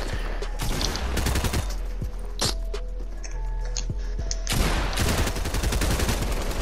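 Gunfire in Fortnite, bursts of rapid automatic shots clustered at the start and end with scattered single shots in between, close and loud.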